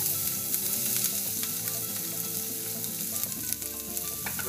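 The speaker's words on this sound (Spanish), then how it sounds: "Echa la cebolla a un sartén." Onions frying in a pan for tacos, a steady close sizzle and crackle with occasional stirring scrapes, running continuously with no talk.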